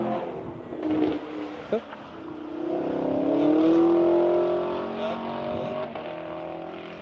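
A loud car at an afternoon rally-style event roaring past, engine note swelling to a peak and fading as it goes by, with spectators talking over it.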